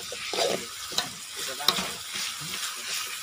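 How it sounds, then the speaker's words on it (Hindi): Chicken fries in refined oil with a soft sizzle broken by a few sharp spoon clacks and stirring scrapes, close but fairly quiet, with no speech over it. "इसको बहुत अच्छे से फ्राई करने का"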